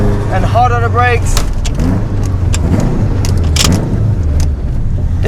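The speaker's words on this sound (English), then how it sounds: "Bring up to 5th gear and hard on the brakes." A tuned 370bhp Subaru Impreza WRX driven hard, engine droning loudly throughout as it shifts up and brakes into a bend, with brief revving blips and someone speaking over the noise.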